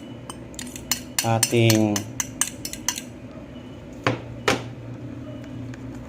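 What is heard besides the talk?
stirring onion and garlic in a pan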